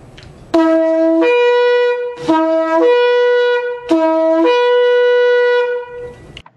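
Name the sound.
shofar sounding the shevarim blasts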